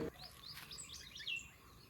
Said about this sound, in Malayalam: അതിൽ നിറച്ച് കിളികൾ വന്നിരുന്ന ചിലക്കുകയാണ് കേട്ടോ